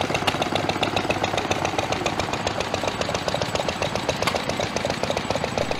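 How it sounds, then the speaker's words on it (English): A stationary engine runs steadily at a steam fair, its rapid, even chugging beat continuing throughout at close range with a dense, rattling mechanical texture. "Stationary engines."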